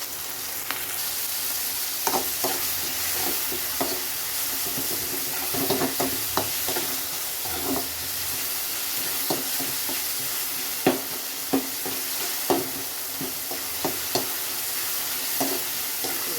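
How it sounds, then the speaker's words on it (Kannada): Onions and tomatoes fry in oil in a pan for an onion gojju, with a steady sizzle broken by repeated scraping and clacking stirs throughout, no voices. "ಚೆನ್ನಾಗಿ ಫ್ರೈ ಆಗಬೇಕು."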